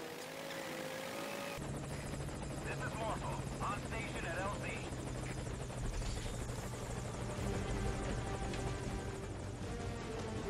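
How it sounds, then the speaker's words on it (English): An extraction helicopter in Metal Gear Solid V: Ground Zeroes kicks in after a moment and keeps up a loud, continuous rotor thrum and engine drone for the rest of the stretch, with faint voices mixed underneath. "all that is left to do is to just wait the chopper out"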